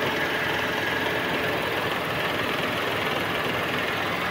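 Hyundai Eon small car engine idling steadily, a constant droning hum and rumble heard close and alone for several seconds with no talking.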